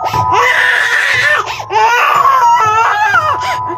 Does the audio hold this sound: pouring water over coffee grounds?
no